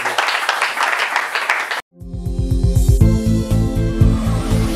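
Church congregation applauding loudly for about two seconds, then cutting abruptly into loud music with a steady beat.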